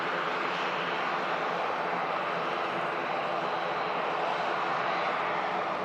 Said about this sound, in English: Brussels Airlines heading back to Brussels in the new livery there